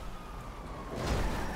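Police sirens wail in GTA V as cops chase the player, a steady siren wash rising slightly louder toward the end, with no talk over it.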